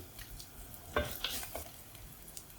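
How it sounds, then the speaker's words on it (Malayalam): Ginger, green chilies and garlic sautéing in a pan, a faint soft sizzle broken by a few sharp clinks and scrapes of a spoon stirring, quiet and brief. "ഇഞ്ചിയും പച്ചമുളകും വെളുത്തുള്ളിയും എല്ലാം നന്നായിട്ട് വഴന്ന് വന്നിട്ടുണ്ട്"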